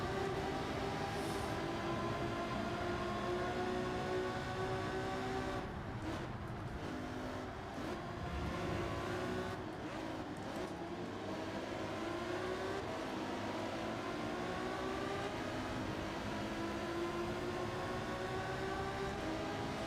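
Racing car engine in Gran Turismo at Dragon Trail Gardens, a steady loud drone whose pitch rises and falls as the driver downshifts through corners, continuous throughout without pause.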